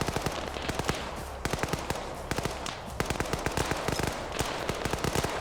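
Rapid gunfire crackles through a rock operation as players come under fire, with dense, irregular bursts of shots that sound fairly distant and fill the whole stretch.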